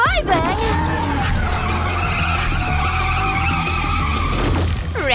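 A car skids and drives off with tires squealing, a loud sustained screech over engine noise, sweeping in and out at the start and end.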